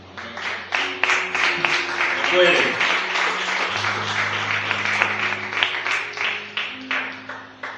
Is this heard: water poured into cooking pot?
no